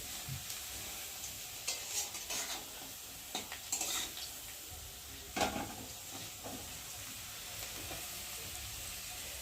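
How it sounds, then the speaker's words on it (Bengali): Potatoes stirred into oil with black cumin (nigella) seeds, a soft continuous frying sizzle with several scraping stirs of a spatula in the pan, close and moderately quiet with no talking. "দেখো ভাজা হয়ে গেছে, আর এখন আমি আলুগুলো টেনে নিলাম ওর মধ্যে।"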